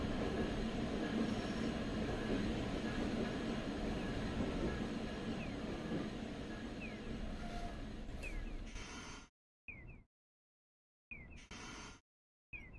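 A Hakodate street tram rolls along its rails with a steady, loud rumble and thin wheel squeals, then cuts off into silence broken by a few short, sharp squeals.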